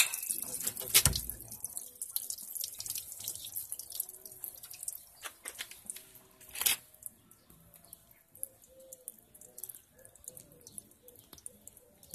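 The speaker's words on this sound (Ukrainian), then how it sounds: "Да, вже чистенько біжить." Water pours out clear from a Fiat Scudo 1.9D diesel cooling system being flushed, a continuous trickling flow with scattered drips and a couple of sharp clatters.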